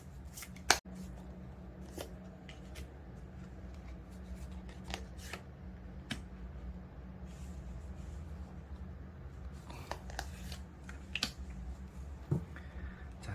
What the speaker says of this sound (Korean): 조언자의 카드를 뽑아보도록 하겠습니다